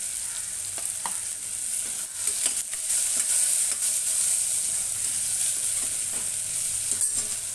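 Two onions fry in hot oil with asafoetida and cumin for garlic dal khichdi, a constant bright sizzle with occasional light stirring scrapes.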